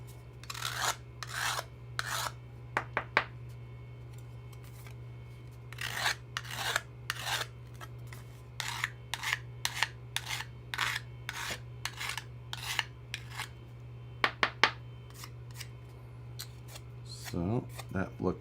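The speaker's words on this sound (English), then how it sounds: "a couple of swipes with a file" Hand file rasping along a sheet-metal edge cut with tin snips, a series of short, close strokes in irregular bursts over a low steady hum.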